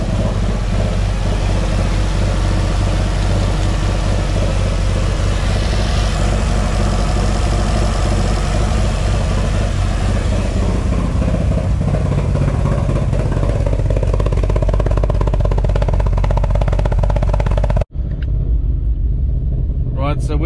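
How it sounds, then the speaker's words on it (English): A car engine idles steadily after its idle control solenoid was replaced, a continuous low rumble close by that holds for about eighteen seconds, then cuts out briefly and resumes. "So we'll just let it idle for a little bit and see how we go."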